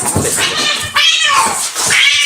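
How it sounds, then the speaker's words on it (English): Two cats fight at a food bowl, yowling and caterwauling loudly and close by in strained, rising cries with no talk. "It was two cats. Oh, decided to start fighting at the food bowl."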